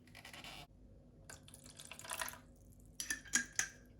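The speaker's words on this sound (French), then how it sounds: "Je vais rajouter un peu d'eau." Water splashing into a small bowl of miso sauce for grilled salmon, a short gurgling pour followed by a few brief drips and light clinks, close and soft.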